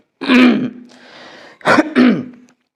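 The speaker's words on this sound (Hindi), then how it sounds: "सॉरी, कई बार ये खांसी ऐसी गड़बड़ कर जाती है।" A close, loud throat clearing from a man lecturing, followed after a short pause by two quick harsh coughs.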